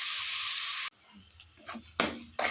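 Sliced onions frying in a pan until golden for a dried shrimp and egg curry: a loud steady sizzle that cuts off abruptly, then quieter scraping and two more sharp bursts of frying hiss.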